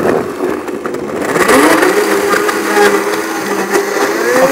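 A Blendtec blender on its soup cycle blending tortilla soup, a loud, close, steady motor roar that climbs in pitch as the blade speeds up and churns the thick mixture.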